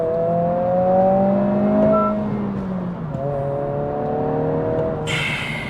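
A 2026 Honda Civic Si driving with its artificial engine sound, a near, steady engine note that climbs and then drops as it changes speed, with a brief bright tone entering at the end.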